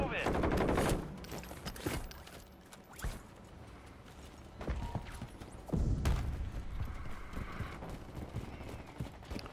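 Gunfire from a weapon in Call of Duty comes as sharp bursts and scattered shots, some close and loud, mixed with mechanical clatter and voices talking.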